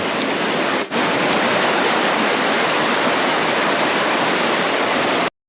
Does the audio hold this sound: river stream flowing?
yes